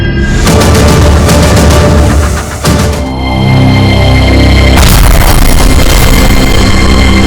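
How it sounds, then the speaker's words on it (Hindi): A bomb detonates in a police chief's car, a massive booming blast with heavy rumbling, very loud and near, easing briefly and then swelling again into a second sustained roar. "छत्तीसगढ़ के डीजीपी की कार में हुआ धमाका"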